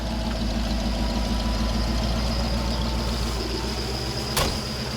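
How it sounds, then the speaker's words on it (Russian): A GAZ-66 off-road truck stuck in a swamp with deflated tyres, its engine droning steadily and loudly throughout, with a single brief knock near the end. "Видите, шишига не идет ни на спущенных колесах."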